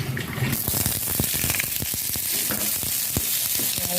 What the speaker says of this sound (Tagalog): i-fry ko na yung onions. Naganata na yung konting olive oil.